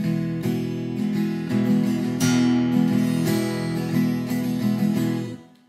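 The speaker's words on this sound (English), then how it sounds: "Now you can also just use your thumb and index finger and strum" Steady guitar strumming with thumb and finger, chords ringing continuously and up close before fading out at the end.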